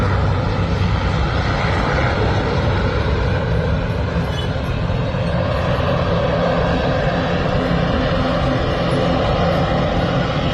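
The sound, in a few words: propeller airliner taking off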